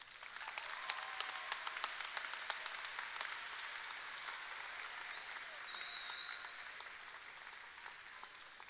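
Graduates at a spring university commencement receive steady, fairly distant applause from a large crowd, a diffuse patter of many hands that continues evenly and gently tapers.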